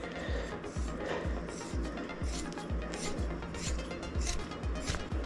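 A gear puller works on the shaft of a Husqvarna 430X AutoMower rear motor, giving a rapid series of rhythmic clicking, ratcheting strokes close by, steady and repeated without speech.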